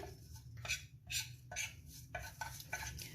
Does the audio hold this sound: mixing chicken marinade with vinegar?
yes